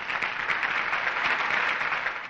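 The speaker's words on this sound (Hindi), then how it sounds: "तालियों से इनका स्वागत कीजिए।" Applause from an audience in a Hindi-dubbed Telugu film scene, welcoming a village event's organiser to speak; dense, steady clapping that stays loud and even throughout with no voices over it.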